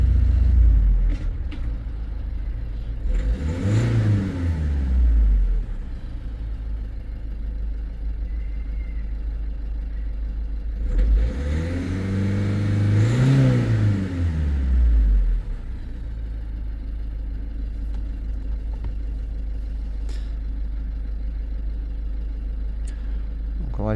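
A 1.6 HDi diesel engine in a Peugeot Partner Tepee, a DV6 unit with a fault that makes it cut out on the road, revs twice from a steady idle, near and loud, then settles back to idle.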